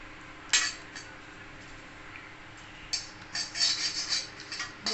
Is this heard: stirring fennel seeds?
yes